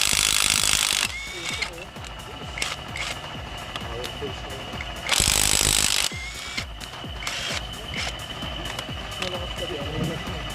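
A Lvdian impact wrench loosens a flywheel bolt in bursts, with loud hammering rattles at the start and again midway and quieter mechanical clicking and workshop noise between them. A voice can be heard in the background.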